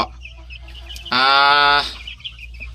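A fighting gamecock rooster at a gamecock farm gives one loud, close crow lasting under a second, rising out of a quiet yard with faint background bird noise and no talking.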